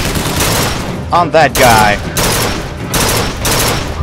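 Repeated bursts of gunfire ring out during combat in Bioshock Infinite on hard difficulty, with several loud volleys spread across the moment while someone talks over them.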